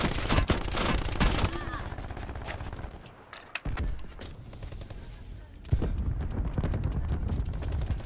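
Gunfire in Call of Duty Blackout, with dense bursts of automatic fire and scattered single shots at close and middle distance, broken by a brief lull. Players talk over the shooting.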